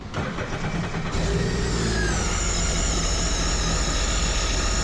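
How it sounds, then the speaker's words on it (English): A Sea-Doo jet ski engine cranks briefly and then catches, settling into a loud, steady, close idle with a buzzing whine that continues to the end, with no speech. "We can crank the ski up."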